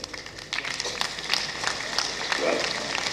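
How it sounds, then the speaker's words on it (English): Conference audience at an accountants' plenary session applauding, a steady wash of clapping lasting about three seconds, fairly close and building slightly toward the end, with a voice briefly audible over it. "if you don't clap for yourself, I don't know who else you clap for"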